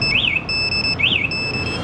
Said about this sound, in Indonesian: Ini alarm aktif. Ketika disenggol, dia bunyi.